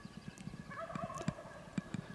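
A wild turkey gobbles in the distance on private land during a spring hunt in Idaho, giving one faint rolling gobble amid scattered soft clicks and rustles.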